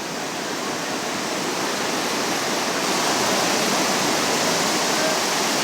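Whitewater river pouring over Sweet Falls on the Upper Gauley: a loud, steady broadband roar of rushing water with no break, close by and alone with no voices.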